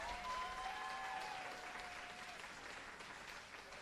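Audience applause at a Hawaiʻi County Democratic Party primary rally, a steady wash of clapping from a large crowd that holds loud throughout and eases slightly toward the end, with a few whistles or cheers rising above it.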